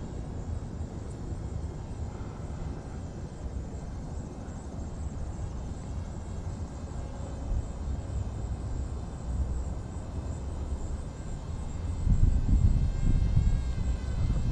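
A DJI Ryze Tello drone cruises overhead with a steady, thin whine that holds nearly constant and swells louder near the end as it passes close.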